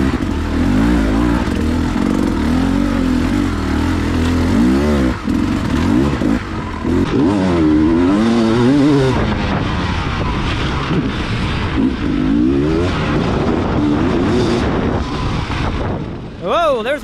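Loud, close dirt bike engine during a hard enduro race, revving and surging with rising and falling pitch as it climbs and accelerates through rough terrain, continuous throughout with a brief mechanical rattle at the end.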